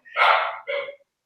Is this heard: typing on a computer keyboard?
no